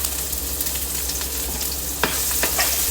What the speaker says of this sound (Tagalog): Gigisahin ko muna tong mga sahog. Onions.